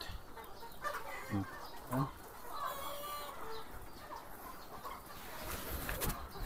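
Many chickens cluck on a ready-to-lay poultry farm holding about 8,000 birds, a steady dense flock chatter with scattered louder clucks and calls throughout, with no talk.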